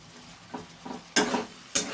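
Chana matar frying in a pan is stirred, a soft sizzle underneath with a few scraping strokes that grow louder, the two final ones sharp and close.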